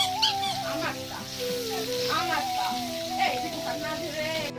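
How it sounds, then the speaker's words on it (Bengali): Steady oily sizzle of fish frying in oil runs throughout, with a tonal hum and occasional clatter layered over it; close and moderately loud. "মাছ ভালো করে একটু কড়া করে ভাজা করে নেব"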